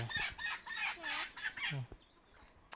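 Chickens at their egg-laying spot give a run of close clucks and squawks, several calls in a row with brief pauses, loud and near with no talk over them.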